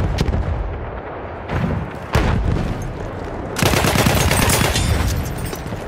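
Dense Battlefield 1 gunfire crackles without pause, with broadband blasts at intervals and a louder sustained burst late on, consistent with a grenade explosion amid the firing; no speech.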